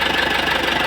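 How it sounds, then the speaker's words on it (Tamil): A 2008 Tata Safari EX engine idles with a steady, rough, pulsing knock-like rumble, loud and close, heard alone for a brief moment. "இப்போ இன்ஜின் ஆனில் இருக்குது"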